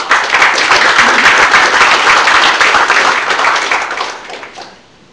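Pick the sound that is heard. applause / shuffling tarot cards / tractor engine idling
applause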